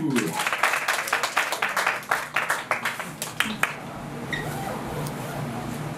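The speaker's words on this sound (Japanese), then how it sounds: "チェリー拍手。" Applause for the dancer Cherry at a TRUE SKOOL dance event, a burst of sharp claps that thins into scattered, fading hand claps, with crowd voices and chatter continuing underneath.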